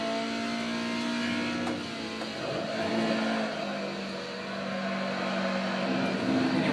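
A Toyota AE86 engine drones and revs in a sim racing game at the Nürburgring, a steady four-cylinder hum rising and falling through gear changes, loud and continuous with no speech.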